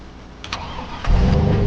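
Brief clicks, then a Chevy truck engine in Farming Simulator 25 cranks and catches, settling into a loud, deep rumbling idle.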